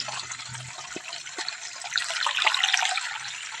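Stream water lifted by a 1hp water pump pours and trickles into a tank, a close, continuous splashing that swells louder partway through, with no one talking.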